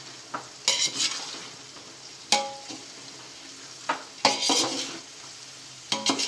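Onion and garlic fry in a pan and are stirred with a utensil. Quick bursts of scraping and clattering come and go over a soft, steady sizzle, with no voices.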